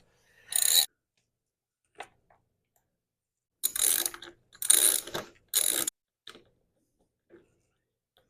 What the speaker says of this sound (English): The easiest bolts come out thus far.